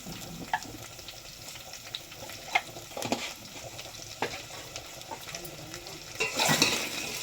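Vegetables, green chillies and salt frying in oil for a horse gram sambar rice, a soft continuous sizzle with scattered scrapes of stirring and a louder burst of clatter near the end.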